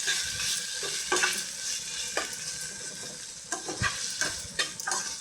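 A spoon stirring and pressing a stuffed bell pepper and potato filling with tomato in a frying pan, sizzling steadily while repeated scraping strokes come every half second or so, close and clear, with no talking.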